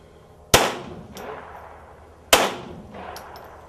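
Two loud, sharp gunshots ring out about two seconds apart, each with a short echoing tail, in a concealed-carry shooting setting. They sound close and crack like firecrackers, with no talk between them.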